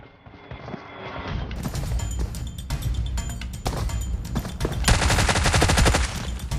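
Sustained automatic gunfire rattles loud and close in PUBG Mobile on the Karakin map, rapid bursts building into a dense continuous volley with sharp cracks and clatter.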